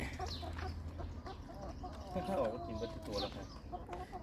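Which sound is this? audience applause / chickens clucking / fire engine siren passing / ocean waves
chickens clucking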